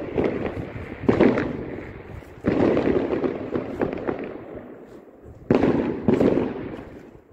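New Year fireworks in Poland, several loud booming bursts followed by crackling tails that fade, arriving in clusters at a moderate distance with no talking.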